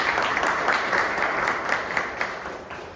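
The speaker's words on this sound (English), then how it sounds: "Huge round of applause for them." An audience at a panel discussion applauds the panelists, with sustained dense clapping that fades slightly toward the end.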